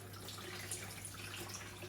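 Water running steadily into a bowl of rinsed peas set to soak for rice and peas, a soft continuous trickle and splash at close range with no talking.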